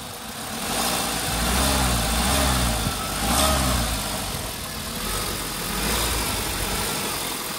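A 2011/12 Volkswagen Vento 1.6 petrol engine idles smoothly and fairly loud up close, its hum swelling gently in a few mild rises before settling back to a steady idle.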